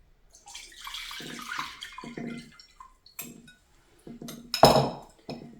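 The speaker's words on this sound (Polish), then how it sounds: "Kolejną galaretkę przelewamy." Liquid jelly pours and splashes into a dish in short bursts for a no-bake yogurt dessert, with light clinks of glass or cutlery nearby and a louder pour near the end.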